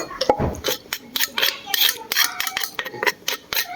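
A utensil scrapes and clinks against a pot and bowl while tomato soup is ladled out, a quick irregular series of metallic taps and scrapes at close range.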